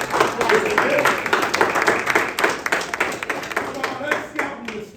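Applause from a large audience at a Cub Scout pack's Blue & Gold banquet, steady dense clapping with cheering voices throughout, easing slightly toward the end.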